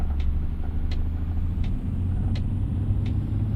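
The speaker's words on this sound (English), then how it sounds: "I'm just going to clutch in over into 2 low." A truck with a ZF 12 transmission drives in low range with a steady, deep engine rumble close by and a few faint, regular ticks over it.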